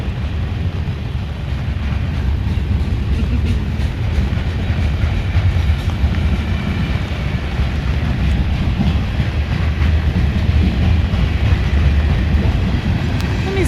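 A BNSF freight train, led by three engines with a second five-engine train following, rumbles past steadily in the rain, a loud continuous roar with faint rail clatter and wind buffeting the microphone throughout.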